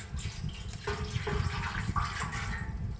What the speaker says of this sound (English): I'm filling it up with some water, and this is going to be our water bath